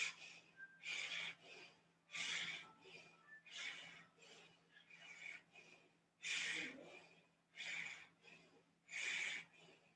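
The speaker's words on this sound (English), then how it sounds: "Lift up, breath of fire." Breath of fire during a winter hatha yoga class: rapid, rhythmic forced exhalations through the nose in repeated bursts of about a second, separated by short pauses, soft and close, with no talking.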